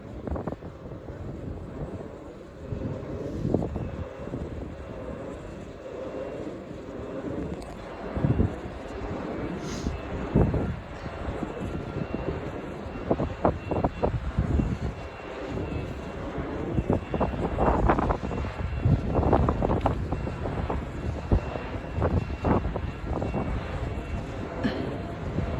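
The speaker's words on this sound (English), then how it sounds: "I want you to listen to the power of this windmill." A giant wind turbine runs nearby, producing a steady, jet-like whooshing roar with rhythmic swells and gusty wind noise that grows louder and more turbulent over time; no one speaks.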